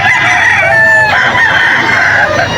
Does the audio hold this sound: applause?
no